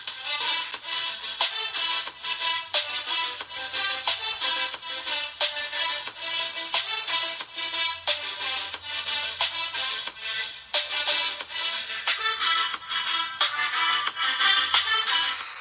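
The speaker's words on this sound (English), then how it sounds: "let me do a quick music sound test" Music plays through the small built-in speaker of a BLUBOO Dual phone. The sound is bright and thin with a steady beat and little low end, fairly loud and continuous throughout, with no talk.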